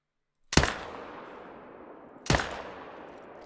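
Two sharp rifle shots from a hunting video game, the first loud and booming, the second about two seconds later, each with a long echoing tail rolling away.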